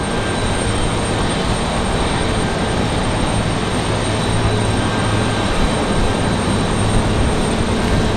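An American Airlines Airbus A321 arriving from Charlotte at Raleigh-Durham, a steady broad jet roar holding loud and even throughout, with a low hum underneath and no voices.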